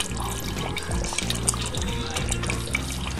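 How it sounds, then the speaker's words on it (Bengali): A small amount of kewra water pours into a pan of mutton rezala, giving a steady splashing, trickling liquid sound that runs the whole time over a low background hum. "শেষ পর্যায়ে আমি সামান্য পরিমাণ কেওড়ার জল দিয়ে দিচ্ছি"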